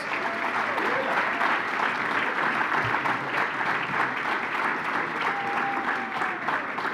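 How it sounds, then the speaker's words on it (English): A hall audience at the Wilkes County Hall of Fame induction ceremony breaks into sustained, full applause for an inductee, the thick clapping running throughout with faint voices beneath. "Round of applause, please"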